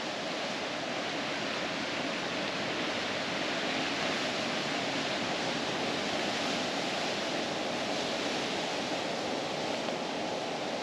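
Massive, rough ocean waves pounding a rocky shore near Hilo on Hawaii's Big Island on a rainy day, a loud continuous roar of surf and spray filling the whole stretch with no voices.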